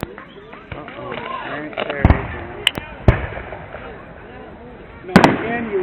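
Fireworks go off in an outdoor park, several sharp bangs and pops scattered over a few seconds, some near and loud, amid chatter and crowd noise.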